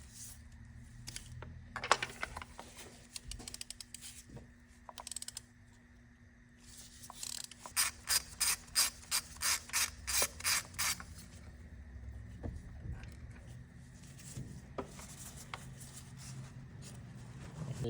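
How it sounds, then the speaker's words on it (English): Ratchet clicking with a 5/8 spark plug socket as spark plugs come out of an Audi A6 C6 engine, a quick run of about ten sharp, evenly spaced clicks, close and moderately loud, with scattered handling noises before and after. "to take the spark plugs out, I'm using a 5/8 spark plug socket"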